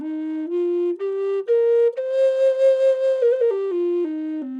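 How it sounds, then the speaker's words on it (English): A breathy, low bass C flute plays a slow stepwise melody, rising then falling, with sustained notes and a soft airy edge, up close and alone. "this is a C flute, bass C"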